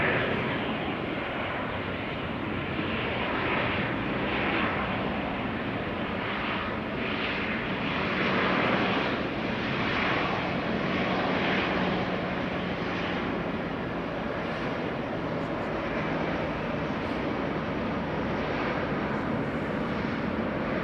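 An Airbus A321neo arriving at Amsterdam Schiphol Airport on a flight from Athens. Its engines roar loudly and continuously throughout, a broad steady rumble with no voices.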